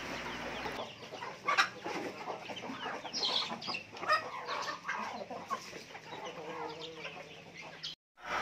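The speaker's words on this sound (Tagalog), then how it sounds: "tinatawag na ni Sir Jeff yung mga manok niya" Chickens cluck and squawk in a busy flock, the calls overlapping continuously at close range, with a brief silence near the end.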